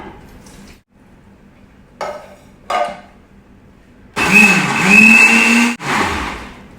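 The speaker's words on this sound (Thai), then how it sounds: "ก็นำใบเตยนะคะใส่ในเครื่องปั่นเลยค่ะ" A countertop blender whirs loudly as it blends pandan leaves with water, starting abruptly after a few soft clatters and running steadily for over two seconds with a brief dip midway. No one speaks.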